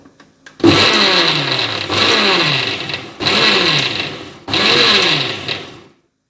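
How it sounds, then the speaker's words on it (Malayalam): A weak mixer grinder grinding chutney whirs in four short, loud pulsed bursts separated by brief pauses, then winds down to silence. "ഈ മിക്സി അത്ര സ്ട്രോങ് അല്ലാത്തത് കൊണ്ടാണ് ഇത്രയും തവണയാക്കുന്നത്."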